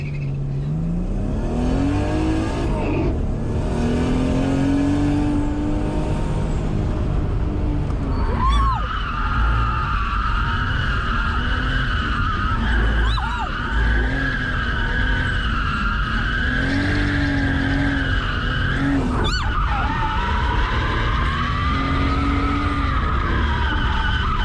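A drift taxi car skids and revs hard at close range, its engine swooping up and down in long sustained howls with tire squeal running continuously throughout.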